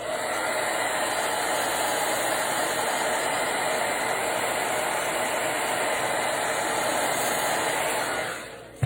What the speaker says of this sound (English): I'm not using my heat gun, I'm using a hair dryer